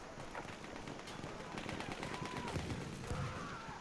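Battlefield 1 game gunfire on the Sinai Desert map: quiet, continuous automatic fire and scattered shots in the background, mixed with faint game noise.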